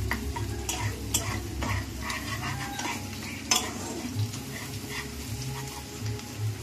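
Onions browning in a pan for a thin Bengali goat-meat curry with potato and papaya, sizzling steadily while a utensil scrapes and stirs in repeated strokes, with occasional clinks against the pan; close and continuous, no talking.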